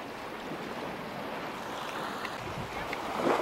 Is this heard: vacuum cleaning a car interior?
no